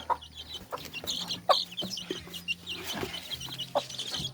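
Chickens cluck on a farm, a close, busy mix of short irregular clucks and chirps from several birds overlapping throughout.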